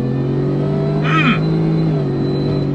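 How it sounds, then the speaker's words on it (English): A 2023 Shelby F-150 Super Snake truck with a supercharged engine accelerates hard under throttle, a loud, steady engine drone from inside the cab with a brief rising whine midway. "On throttle, here we go, drops down and we're off."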